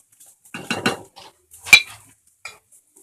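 Spoon stirring turmeric, salt and amchur powder in a pan for aloo chop: a few quick metallic scrapes and clinks, then a single sharp tap against the pan, close and isolated with quiet gaps.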